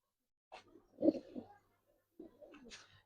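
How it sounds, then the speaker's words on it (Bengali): Old-breed Laddu Kolla Bagar pigeons coo in two short bursts of soft, throaty calls separated by a brief pause, close by and otherwise quiet. "যারা পুরান জাতের লাড্ডু কল্লা বাগার কবুতর চান তাদের জন্য এই প্যাডটা দেখেন"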